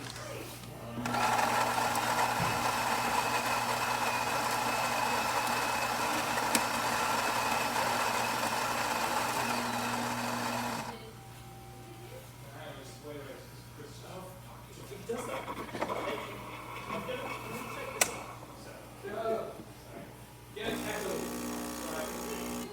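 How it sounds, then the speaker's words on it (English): A Gaggia Anima espresso machine runs after a tune-up, its pump giving a steady, fairly loud mechanical buzz for about eleven seconds before cutting out, followed by quieter clicks and shuffling handling noises. "we'll be able to test the espresso function"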